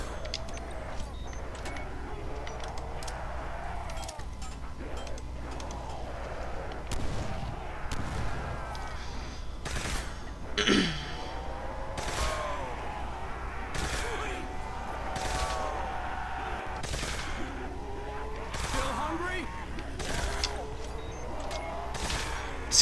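Gunfire in a Call of Duty: World at War custom zombies map set in a hotel: repeated close sharp shots scattered over a continuous game din, with growls and someone talking now and then.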